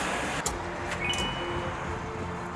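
A truck engine rumbles steadily nearby, with a few faint metallic clinks, and no one speaks.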